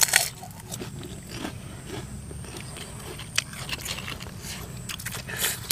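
Someone eats spicy pounded whole cuttlefish salad, producing loud, close crunchy bites and steady chewing with scraping textures that continue throughout with no talking.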